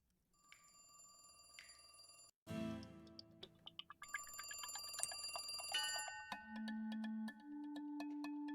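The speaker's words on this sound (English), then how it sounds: "The phone is ringing." A telephone rings in the horror adventure game The Cat Lady, with repeated electronic ring bursts mixed among shifting tonal game sounds and effects, fairly quiet overall.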